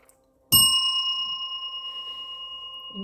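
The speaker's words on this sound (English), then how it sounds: "of my little bell." A single bright strike of a small bell, ringing clearly and fading slowly with a long shimmering sustain; no voices.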